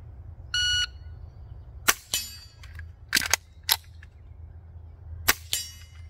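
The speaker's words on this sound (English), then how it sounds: "You should have an empty magazine in the gun, so you go to an emergency reload, and shoot 1 round." Sharp suppressed pistol shots through a Silencerco Sparrow suppressor, several loud close cracks spaced irregularly with metallic clicks and clatter of a magazine reload between them, preceded by a brief electronic timer beep.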